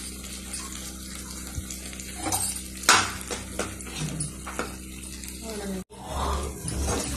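Masala paste with paneer pieces fries in oil in a pan, a steady sizzle running under occasional stirring clinks and one sharp scrape, with a brief cut near the end, close by.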